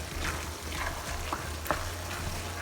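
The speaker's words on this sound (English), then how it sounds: "our sauce is cooking nicely" Sauce for shepherd's pie, with peas and carrots, cooking in a pan: a soft, steady sizzle and bubble with a low hum underneath and a few faint clinks, moderately quiet and close, no talking.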